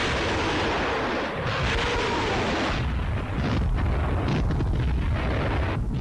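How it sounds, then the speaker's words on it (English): Panzerwerfer 42 rocket launchers firing on Soviet lines in a 1943 wartime newsreel: a continuous loud roaring rush of rocket blasts and booms, harsh and dense throughout, with no speech. "The reel ends with Panzerwerfer 42 launchers blasting Soviet lines."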